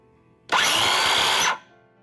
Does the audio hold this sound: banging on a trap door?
no